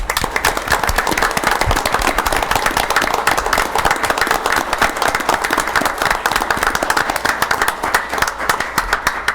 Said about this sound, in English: Could we all join us in a round of applause, please?